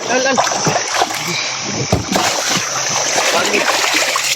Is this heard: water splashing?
yes